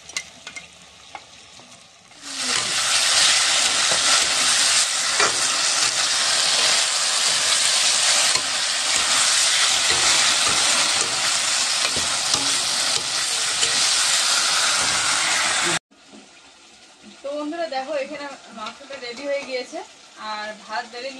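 Meat frying in a pan with ginger, garlic, onion, cumin and dried chili, a loud steady sizzle with stirring that runs for about thirteen seconds before cutting off, followed by quieter kitchen sounds.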